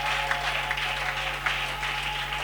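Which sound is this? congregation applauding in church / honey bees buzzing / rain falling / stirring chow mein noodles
congregation applauding in church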